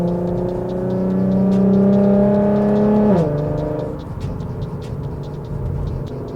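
An Infiniti Q50 with a muffler-deleted exhaust pulling hard, heard from inside the car: a loud, steady engine drone climbs in pitch, then drops sharply at a shift and keeps running rougher.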